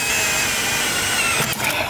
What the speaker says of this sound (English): Drilling holes has got to be my favorite thing, especially through steel, thick steel.